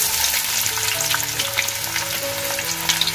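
Onion tipped into hot oil in a kadhai where garlic is already frying for a Marathi mutton curry tempering, giving a steady loud sizzle with crackling bursts and faint stirring throughout, no voices.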